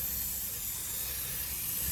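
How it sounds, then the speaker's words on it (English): Steady broadband hiss of 3M High Strength 90 contact adhesive sprayed from an aerosol can onto cedar hot tub cover material, a continuous close airy rush with no talk. "3M high strength 90 contact adhesive. Basically you spray this down."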